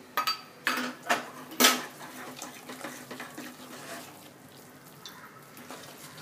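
A spoon stirs ven pongal and ghee in a pot, giving a few sharp metallic clinks and scrapes in the first two seconds before settling into softer, quieter scraping.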